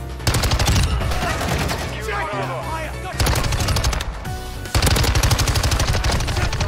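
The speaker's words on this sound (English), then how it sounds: "Literally just shooting into the dark." Dense bursts of automatic gunfire in a night match of Call of Duty: Modern Warfare II, loud and rapid, broken by short pauses, with a player's voice talking over parts of it.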